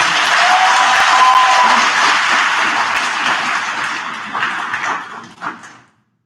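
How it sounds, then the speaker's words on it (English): Applause for outstanding award recipients at an 8th grade graduation ceremony, a dense, steady crowd clapping that swells briefly then thins out and stops after about six seconds. "Give them one more round of applause."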